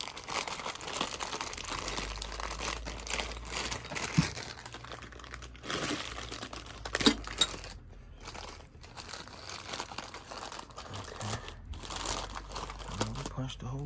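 A plastic bag crinkles and rustles in irregular bursts as a hand reaches inside it, with quieter gaps between handling sounds and occasional sharper crackles.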